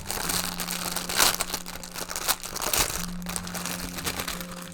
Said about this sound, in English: And let me take him out of his plastic bag.